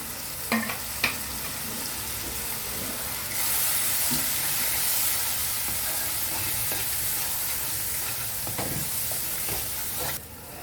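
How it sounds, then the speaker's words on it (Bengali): Spice paste for doi katla sizzles and hisses steadily in a pan after a little water is added, with a few stirring scrapes early on and the frying continuing at an even level without talk. "একটুখানি জল দিয়ে দিচ্ছি মশলাটা ভাজার জন্য"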